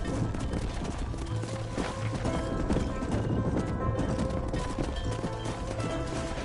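Hooves clop in a dense, continuous patter as horses are driven into a pen in the Western video game Red Dead Redemption, with occasional neighs over a steady outdoor background.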